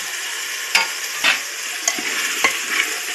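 Two chopped tomatoes sauté with curry leaves for soft khichdi. A steady sizzle runs throughout, broken by about five sharp, close spatula scrapes against the pan, with no talking.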